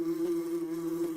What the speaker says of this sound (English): wasp.